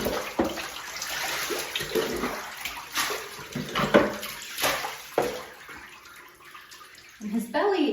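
Tap water runs steadily while a large dog is rinsed in a bathtub, the wash fluctuating with splashes as the spray moves over the belly; a person talks over it at times.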